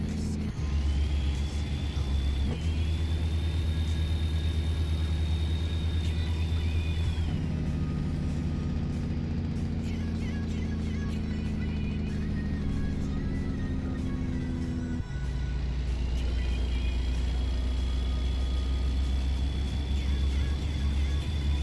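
Kenworth W900 truck in American Truck Simulator, its engine droning loud and continuous, shifting pitch between gears, with a high whine rising and falling above it.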